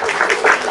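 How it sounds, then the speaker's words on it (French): A brief round of clapping from a crowd of Malian refugees gathered in Côte d'Ivoire, as a speaker is cheered on. It is short and fairly loud, mixed with some voice-like sound. "Il faut applaudir pour le frère"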